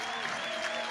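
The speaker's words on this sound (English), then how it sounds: "she departs to a standing ovation, not just from her fans," Standing ovation from softball fans in a Lincoln stadium, a dense, steady wash of clapping and crowd noise filling the whole moment without a break.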